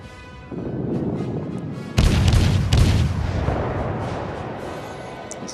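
Heavy battleship main guns fire in the naval video game World of Warships, two deep booming salvos in quick succession over a steady engine rumble, each blast loud and close with a rolling decay.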